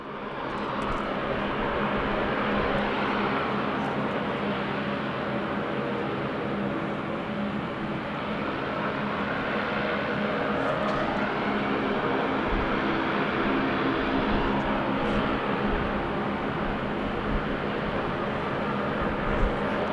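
An aircraft engine drones at Sydney Airport, a broad continuous roar that holds steady for the whole stretch at moderate distance, with no talking.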